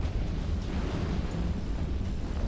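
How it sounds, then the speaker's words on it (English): Massive Doomsday weapon detonations during an EVE Online fleet battle, a continuous heavy low rumble with dense booming bursts close by, loud and sustained with no voices. "those are some really big explosions right next to me"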